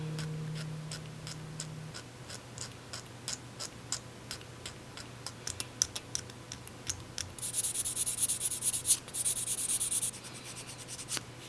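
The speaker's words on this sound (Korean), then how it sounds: "마무리로 600번 사포로 거친 면을 잡아준 뒤 페이싱하면 말끔할 것입니다." Plastic model kit part being sanded with 600-grit sandpaper, quiet rhythmic scratchy strokes repeating steadily, with a brief denser burst of rubbing near the end and no voices.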